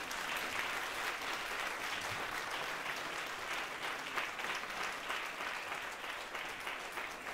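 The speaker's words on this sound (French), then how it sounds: "Ça s'applaudit, hein, faites pas genre." Continuous audience applause at a comedy stage show, even and sustained throughout, fairly distant and moderately quiet.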